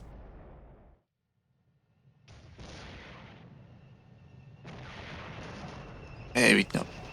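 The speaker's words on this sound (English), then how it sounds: "Hey, artillery's on target." Artillery fire in the Cold War wargame Flashpoint Campaigns: sustained rumbling barrage with broadband bursts, a sharp loud blast near the end, after a brief silent gap.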